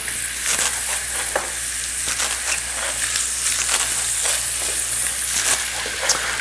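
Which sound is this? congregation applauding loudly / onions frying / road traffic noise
onions frying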